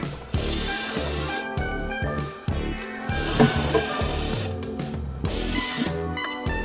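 A sewing machine runs long basting stitches along the side seam of a kameez, a steady mechanical rattle of needle strokes in bursts with short pauses between runs, close and fairly loud, with no talking.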